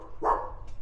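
A guard dog at a renovated ancestral hall and watchtower compound gives a single short bark, moderately distant against quiet surroundings.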